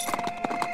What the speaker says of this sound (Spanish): Y si voy con el caballo cojo las cosas.